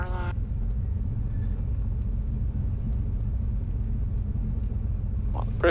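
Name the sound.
Cessna 195 airplane engine running on runway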